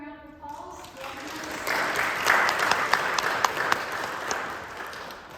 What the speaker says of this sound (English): let's give Joy a round of applause